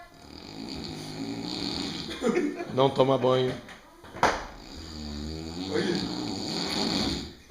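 A pig snores in rough, rhythmic, grunting rasps, loud and close, while people talk and laugh nearby.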